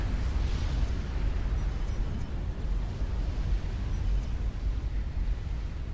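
Units blow up in a Forged Alliance Forever battle, a dense continuous rumble of explosions and crackling bursts, loud and sustained throughout with no speech.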